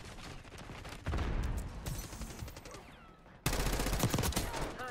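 Rapid automatic gunfire in the video game Call of Duty Black Ops 6, dense bursts of shots that grow louder partway through, continuous and close without any voices.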